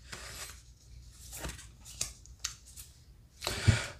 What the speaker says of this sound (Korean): 자, 한 장의 카드 더 뽑아보도록 하죠.